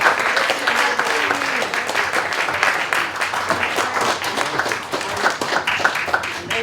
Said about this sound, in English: Please, a round one of applause for Martine.